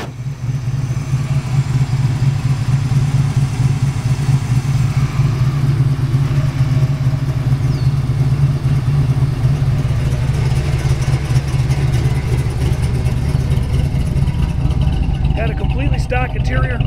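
A 1971 Plymouth Roadrunner with a 440 six-pack V8 rumbles steadily as it drives, a loud, close, deep engine drone holding even throughout with talk over it.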